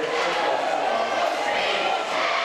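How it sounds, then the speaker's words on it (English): Crowd at a Nebraska Class A boys high school basketball game between Omaha South and Omaha Central roars in a dense, continuous wash of cheering and voices, loud and sustained. "The crowd is really hyped up right now."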